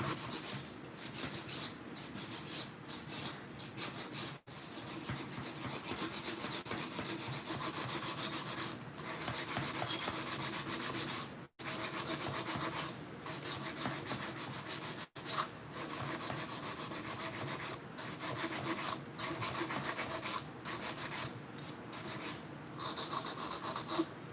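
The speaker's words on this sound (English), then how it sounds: "I pick up my hand file when I'm filing" A hand file rasps across a nail in quick, steady strokes, soft and close, with brief pauses between passes and no voices.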